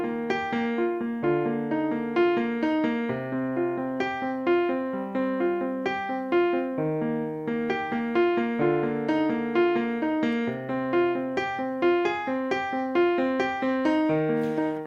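Instrumental introduction to a song, played on piano as a steady, evenly pulsed accompaniment of repeated chords over a moving bass line, moderately quiet and with no voices.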